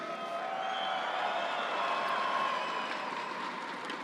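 A large crowd at the Bassmaster Classic bass fishing tournament at Lake Ray Roberts keeps up a steady, dense roar of cheering and clapping with no pauses.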